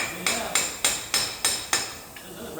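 A hammer strikes Toyota differential parts: six sharp metallic blows in an even rhythm, close and loud, followed by one faint lighter tap.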